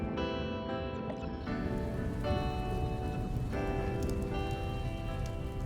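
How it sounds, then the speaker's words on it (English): Steady rain patters against a window on a dark, dreary day, a dense even spray of drops running throughout with no voices. "Raindrops were pattering against the window"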